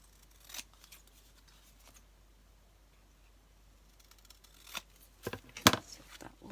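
Scissors trim card for a handmade Mother's Day card. A few sharp, quiet snips come sparsely in a near, otherwise hushed room, with a cluster of cuts toward the end.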